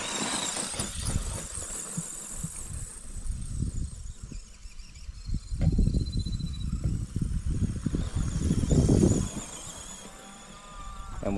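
Twenty-five-year-old Duratrax Evader RC car running after restoration, its electric motor whining and tires squealing in bursts as it accelerates and turns, fairly close, with no talking.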